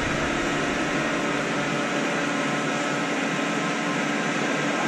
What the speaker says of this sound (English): we're just going to run the driven tool spindle and engage the C-axis